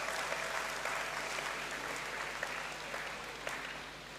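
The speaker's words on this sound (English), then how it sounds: "You deserve another round of applause." Graduates and guests in the Great Hall applaud at a university congregation ceremony, a broad, even roar of many hands clapping, moderately distant and sustained throughout with a few crisp claps popping out.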